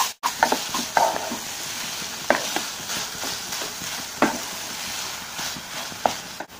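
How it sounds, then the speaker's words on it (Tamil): Grated coconut is stirred into condensed milk in a pan, a soft continuous sizzle with intermittent scrapes and light knocks of the spoon, close and without voices. "துருவன தேங்காய் இதை நல்லா இந்த கண்டென்ஸ்டு மில்கோட மிக்ஸ் பண்ணிக்கலாம்."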